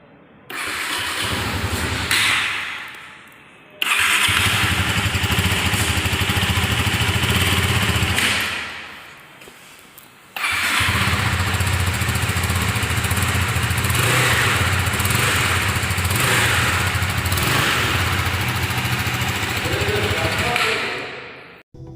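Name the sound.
KTM Duke 390 BS6 motorcycle exhaust note idling in neutral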